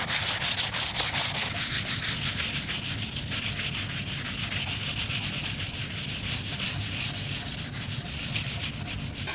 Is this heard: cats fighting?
no